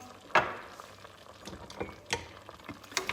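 Halved cherry tomatoes drop into a hot frying mixture for oxtail, a sharp sizzling burst followed by scattered crackles and soft stirring clicks, fairly quiet and without talk.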